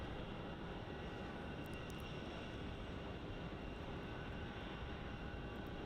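An airplane taxis off runway 34 toward the terminal at Melbourne Airport, giving a steady, continuous engine rumble and broadband roar that holds level throughout, with no voices.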